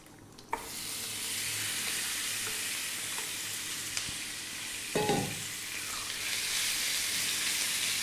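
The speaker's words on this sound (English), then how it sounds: "Now we're going to drop in the fish." Fish fries in hot oil with cumin seeds over high heat, a continuous loud sizzle with a sharp splash as pieces drop in and a bigger burst of crackling around the middle.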